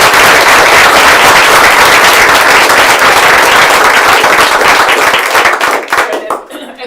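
Volunteers at a school district board meeting receive a loud, dense round of applause from the room, sustained for several seconds before thinning out and fading into scattered claps at the end.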